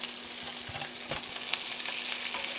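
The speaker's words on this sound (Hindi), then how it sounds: "इन सब को हमने फ्राई करना है हल्का हल्का सा" Vegetables lightly sautéing in oil for a homemade Chinese dinner, a steady soft sizzle with a few faint clinks of stirring, heard alone without talk.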